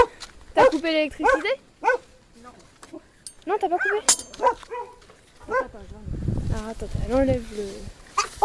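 Several Yorkshire terriers bark and yip in short bursts close by, mixed in with French conversation.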